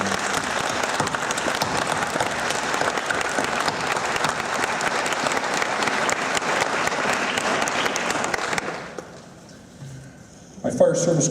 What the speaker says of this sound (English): I'd like to give them a round of applause for their dedication